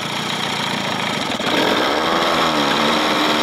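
Johnson Evinrude 25 or 30 hp outboard motor under repair, running steadily and loud, then revving up a little midway into a harsher, busier drone with no talk.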